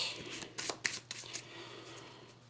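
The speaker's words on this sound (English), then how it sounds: "And then we shuffle Gamora's deck" A deck of cards is shuffled up close: a quick series of crisp riffling flutters and snaps, fading into soft rustling.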